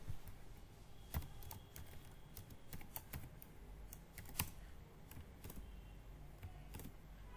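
Irregular, quiet clicking of a computer keyboard as someone types code for an Angular unit test, soft and close with uneven bursts of keystrokes and no voices.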